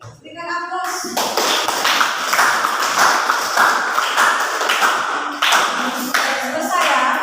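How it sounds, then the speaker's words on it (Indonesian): A classroom group bursts into sustained applause after a group presentation, many hands clapping briskly and densely for several seconds, close and loud, with a brief voice heard at the very start. "Berikan aplaus."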